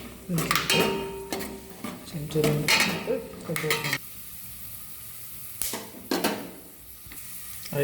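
Cashews dropped into a hot pan on low flame for bachelor-style pulao, sizzling in bursts alongside clinks and scrapes of a spoon against the pan, with a voice talking over the cooking.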